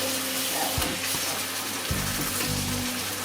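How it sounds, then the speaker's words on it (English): Chicken searing in butter in a hot pan, a steady loud hiss and sizzle with low clunks of the pan being moved. "I'm going to move this butter around just a little bit so be sure they're seared really pretty"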